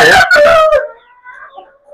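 A Colombian Light Brahma chicken gives a short, loud burst of clucking up close, then trails off into a few softer, thin calls.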